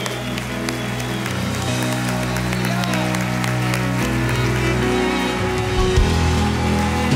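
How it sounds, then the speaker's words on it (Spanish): A standing church congregation applauds during a sermon, a steady wash of clapping over sustained, shifting keyboard chords that play throughout. "Póngase de pie y déle el aplauso más grande al Rey de Reyes"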